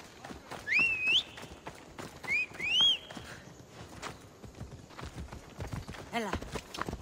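Horse hooves clip-clop steadily in Assassin's Creed Odyssey, a brisk rhythmic trot at moderate distance under two bright whistled birdlike calls and game ambience.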